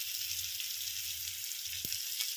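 Tempering of ginger, onion and tomato sizzles in a pan for rava upma. It gives a steady, soft, continuous hiss with a faint clink near the end and no voices.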